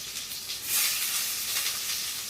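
Whole cumin seeds and chopped small onion dropped into hot oil with eggplant, a bright, steady sizzle that swells in the middle and keeps hissing evenly throughout, close and with no talking.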